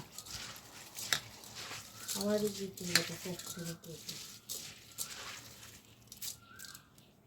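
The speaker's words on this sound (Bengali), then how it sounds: "সরিষার তেল দিয়ে ভালো করে মাখিয়ে নেব" Onion and garlic are mixed with mustard oil: soft wet squishing and tearing sounds come in uneven bursts, close up, with a voice talking at times.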